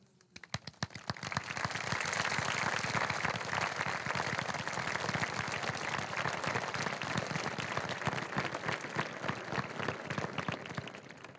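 Sustained, dense applause fills a high school commencement hall as graduating seniors with magna and summa cum laude honors stand, starting after a brief pause and holding steady at full strength to the end.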